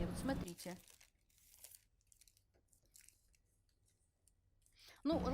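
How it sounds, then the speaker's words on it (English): Tracing paper crinkles as it rolls up during pattern making, with a loud rustling burst at the start, sparse faint crackles in between, and another sharp crinkle at the very end. "I hate it when the tracing paper rolls up."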